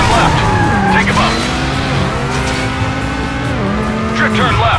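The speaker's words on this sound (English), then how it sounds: "Drift turn left." A car in the Stuntman: Ignition video game makes a drift turn, its engine droning loudly with rising and falling pitch and tire squeal, while a voice speaks over the game sounds.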